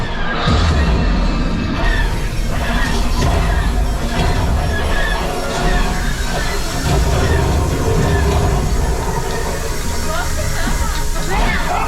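A loud, continuous rumble of a moving train with clattering and crashing noises, dense and close throughout, with voices mixed into the din, on the Millennium Falcon: Smugglers Run ride at Star Wars: Galaxy's Edge, Disney.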